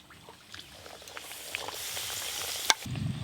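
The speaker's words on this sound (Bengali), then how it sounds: "এই পরোটাটা ভাজলে সব ঢাকাই পরোটা ভাজা হয়ে যাবে।" Dhakai paratha, a layered Bengali flatbread, frying in hot oil, a steady close sizzle that builds gradually with scattered crackles, one sharp clink near the end, then a heavier bubbling surge.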